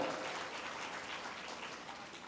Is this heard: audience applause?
yes